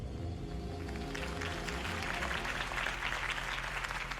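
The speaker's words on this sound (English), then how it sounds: "If only Mr. Wayne, my campaign's largest backer, could have heard that applause" Sustained crowd applause after a campaign speech in the video game Batman: The Telltale Series, a dense wash of many hands clapping that swells slightly toward the end, with no talk over it.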